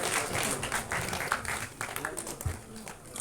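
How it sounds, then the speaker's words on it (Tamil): Loud sustained applause from an audience at an album song screening festival as a participant is called on stage for certification, a dense continuous clatter of many hands with a few louder peaks. "So ஒரு பலத்த கைத்தட்டல் கொடுக்கலாம்."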